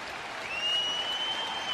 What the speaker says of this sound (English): inside, he was cheered by the huge crowd